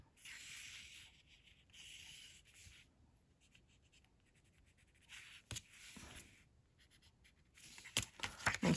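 Pen or pencil drawing a line on a card, faint scratchy strokes in short repeated passes with a few sharper taps near the end, close and quiet.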